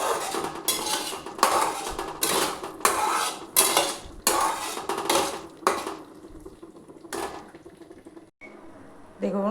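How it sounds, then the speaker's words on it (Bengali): Spice paste with cashews cooks over a lowered gas flame while a spoon scrapes and knocks against the pan in rhythmic bursts, close and loud, fading to a few last strokes. "মশলাটা আমি গ্যাসটা কমিয়ে মশলাটা ভাজছি, কারণ কাজু দিয়ে আছে"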